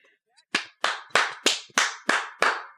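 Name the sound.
clapping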